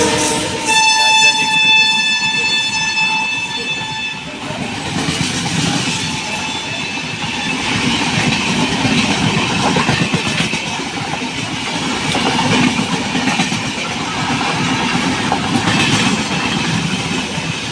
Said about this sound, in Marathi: कुठली ट्रेन आली बघ.